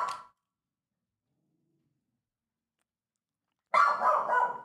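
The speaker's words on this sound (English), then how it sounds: "my dad just walked in and Farley's going nutty mode" A big dog barks in a loud, rapid burst after a moment of near silence, preceded by a brief bark at the very start, with no one talking over it.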